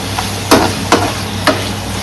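Papaya and shrimp frying in a pan over a low gas flame, a soft continuous sizzle close by, broken by three sharper scrapes or knocks of stirring.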